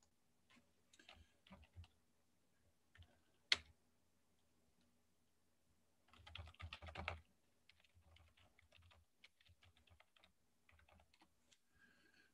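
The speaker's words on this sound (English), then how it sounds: "Just typing in stuff." Keys clatter in short bursts on a computer keyboard, quiet and close, with pauses between runs of typing and one sharper click.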